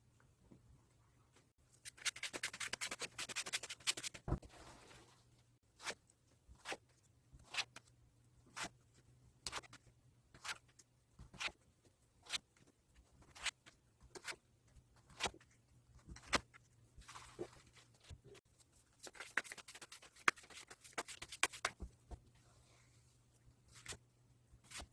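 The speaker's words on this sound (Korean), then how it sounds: "그럼 카드 셔플 진행해 보도록 하겠습니다." Tarot cards are shuffled by hand in a quiet room, giving a steady run of crisp, papery riffles and soft slaps, about one every second. Two denser, busier bursts of shuffling stand out near the start and again about four fifths of the way through.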